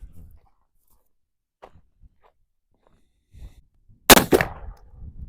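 A single loud shotgun blast fired at a turkey target with a Hevi Metal or Winchester Long Beard XR turkey load, sharp and close, followed by a brief rumbling echo, with quiet rustling and a faint voice before it.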